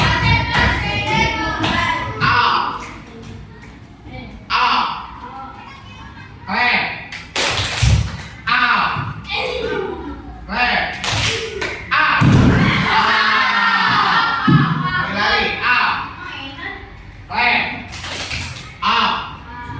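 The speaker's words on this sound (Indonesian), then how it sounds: "Tepuk tangan untuk kita semua." Schoolchildren in a classroom clap hands together in several loud bursts of rhythmic clapping, interleaved with a teacher talking and children's voices, close and lively.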